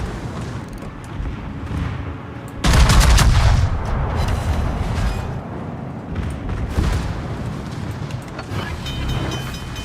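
Heavy naval gun salvos from a warship battle game boom loudly around the third second, then settle into a steady roar of distant firing and battle noise running throughout.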